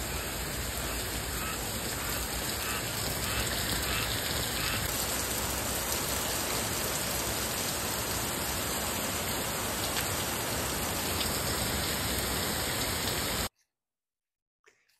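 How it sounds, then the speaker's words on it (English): Steady, dense summer rain falls across a fig garden, a constant close hiss of drops on leaves and surfaces with faint duck-like calls in the background, cutting off abruptly near the end. "Check out this footage from the rain."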